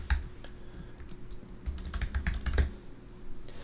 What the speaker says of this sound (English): When I type in an email